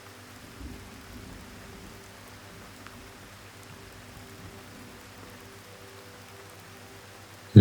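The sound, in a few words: gentle rain falling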